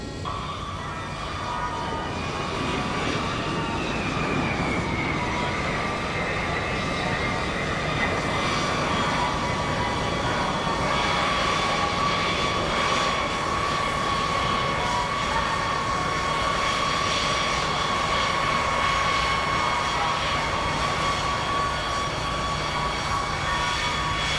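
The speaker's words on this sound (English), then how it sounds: "we get ready to taxi the aircraft out to" B-52 bomber jet engines run steadily on the ground before taxiing, a loud continuous roar with a high whine, sustained throughout and with no voices.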